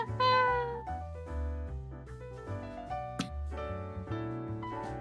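A cat meows repeatedly in the Salvus Aries otome video game, its tones layered over a steady melodic game soundtrack.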